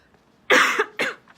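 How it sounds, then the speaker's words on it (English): Two short, harsh coughs from a person, close and loud, one right after the other. "Because I'm coughing."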